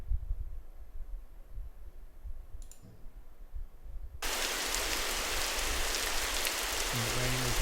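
Steady rain ambience switches on abruptly from an app, a dense even hiss of falling rain replacing a quiet room, with faint rhythmic clicks near the end.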